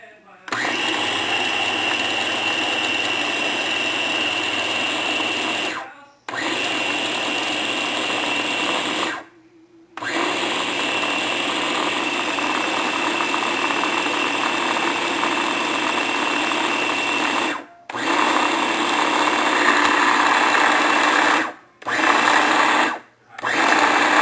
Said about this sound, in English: You lock the cup container back on to the processor, and now you're going to switch it to puree.